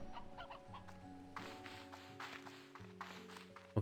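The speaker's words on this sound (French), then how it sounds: "Il y en a des poules ici." Chickens clucking in the video game Slime Rancher 2, short repeated clucks over steady layered game music, with a sharp tap at the very end.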